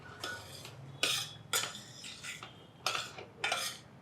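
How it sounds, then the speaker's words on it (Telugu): One cup of semolina roasting in ghee in a pan, heard as a spoon stirring and scraping against the metal in uneven bursts, close and fairly loud, with no talk. "రవ్వ నేతిలో 1 కప్పు రవ్వ వేయించేసుకుందాం."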